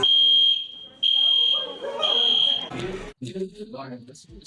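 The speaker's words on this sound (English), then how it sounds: "We had a fire alarm happen." A loud, piercing fire alarm beeps in long repeated tones, with voices talking underneath and continuing after the beeping stops.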